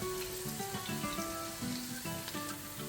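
Chopped ginger, garlic and green chili crackle in hot oil with a dense, close sizzle running throughout, as faint tonal hums sit underneath and no one speaks.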